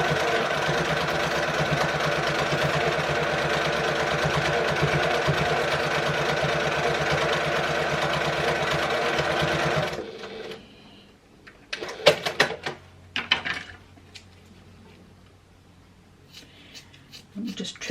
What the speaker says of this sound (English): we're going to sew it all in one at a 1/4 inch